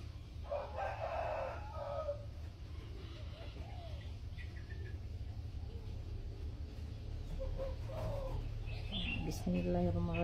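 A young pesom rooster, about six months old, crows near the start among clucking and chirping chickens, with steady background noise and faint talk.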